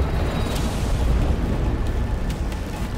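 A cannon explosion in the shooter Wolfenstein: The New Order produces a sustained deep rumbling boom that stays loud and broad throughout, with no voices.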